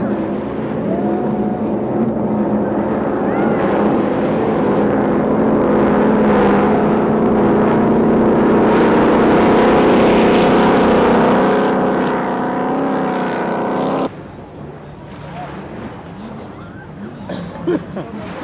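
Superboat-class offshore racing powerboats at the 2010 Great Lakes Grand Prix roar across the water in a loud, sustained multi-engine drone that drops away sharply near the end, leaving a quieter rumble with crowd babble.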